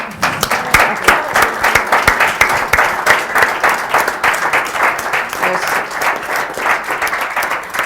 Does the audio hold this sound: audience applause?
yes